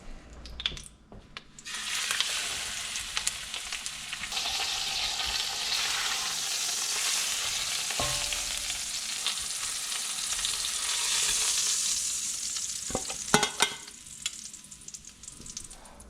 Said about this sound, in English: this turkey leg is nice and golden brown and seared well